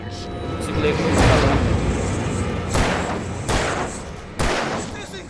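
Gunshots in the PS5 game Alan Wake Remastered: several heavy booming shots fired a second or so apart over a dense rumbling background, with a voice speaking in between.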